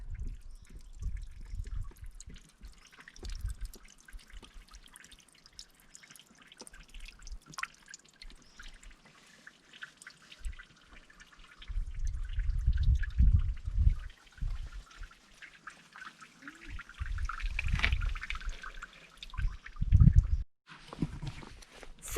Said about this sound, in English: little beautiful fountain in the water, in the mountain